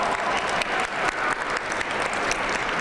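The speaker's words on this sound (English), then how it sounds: "Please, just a big round of applause for the Quincy School and the support that they've given to us for these opportunities." Big round of applause from the audience at a Lunar New Year celebration concert honoring a school, dense continuous clapping that holds steady and fairly loud throughout.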